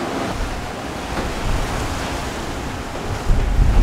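Ocean waves wash steadily beside a cruise ship deck on Royal Caribbean's Navigator of the Seas, with constant wind buffeting the microphone and a louder surge near the end.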